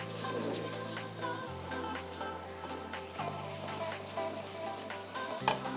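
Milk peda mixture is stirred in a pan, giving a faint, continuous soft sizzle with light scraping strokes over a quiet background music drone.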